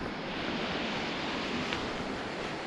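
Water rushes somewhere below in the Albanian mountains, heard as a steady, distant wash of broadband noise with faint wind and no voices.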